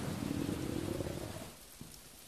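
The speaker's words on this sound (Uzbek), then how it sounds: "Yomg'ir ham bir ne'mat." Rain falls as a dense, steady patter, loud at first and then thinning into lighter drips with a faint tap near the end.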